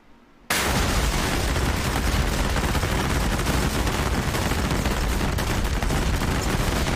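Continuous loud barrage of AGM-154A JSOW bomb detonations in the DCS World flight game, a dense rumbling roar of overlapping blasts starting abruptly after a brief quiet moment and holding steady.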